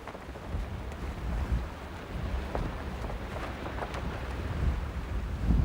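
Steady trade winds blowing over the open Pacific Ocean, a continuous broadband roar and gusting buffet with low rumbling and no voices.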